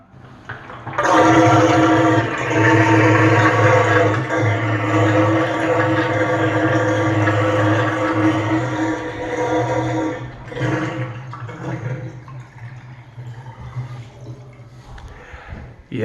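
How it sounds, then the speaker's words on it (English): A Kohler bathtub draining loudly through household plumbing, a steady roaring gush of water that starts abruptly and runs for many seconds before easing slightly, heard up close with no talking. "you're gonna drain the tub. And here you are in your lovely Kohler tub. And you go to drain."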